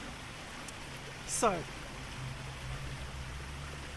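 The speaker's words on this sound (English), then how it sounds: "It's beginning to rain on me." Rain falls outdoors as a soft, even hiss of patter that continues throughout, with a brief spoken word partway through.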